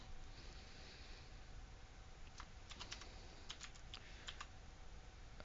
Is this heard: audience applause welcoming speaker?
no